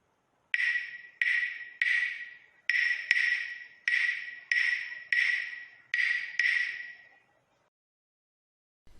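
Nine bright, ringing wooden clicks from claves resting loosely on a cupped hand, in a steady rhythm, each sustaining a resonant tone before the next strike, then silence.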